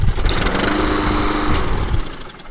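A SABO lawn mower with a Honda engine idles to warm its oil, a steady close chugging drone that holds for the whole stretch with no talk.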